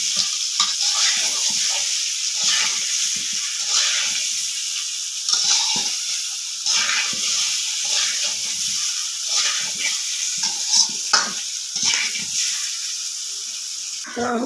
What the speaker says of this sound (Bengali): এখন ভালো করে নেড়ে চেড়ে নুনগুলো মিশিয়ে নেব।